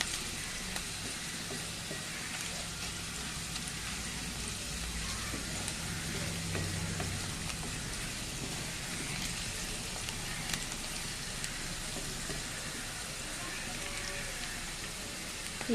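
Onions frying in a pan with turmeric and salt for junnu curry, giving a steady, dense sizzle that runs evenly throughout with faint stirring, no voices.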